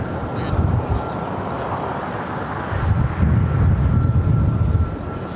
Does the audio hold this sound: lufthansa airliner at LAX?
yes